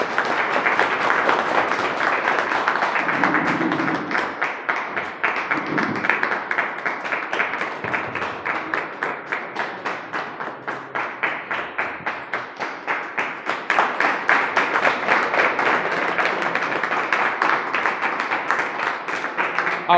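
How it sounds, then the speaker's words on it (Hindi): Audience applause at a team event in Khajoori Khas, steady dense clapping from a crowd that keeps going for twenty seconds, briefly overlapped by a few voices. "तालियां जी।"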